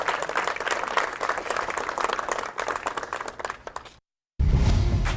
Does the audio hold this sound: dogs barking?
no